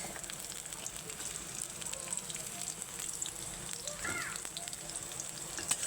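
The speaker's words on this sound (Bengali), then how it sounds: "এখন এটা আমি ভালো মতো ব্রাউন করে ভেজে নিচ্ছি" Onion and green chilli frying in hot oil in a home kitchen pan, a soft steady crackle and sizzle with scattered pops, fairly faint and continuous.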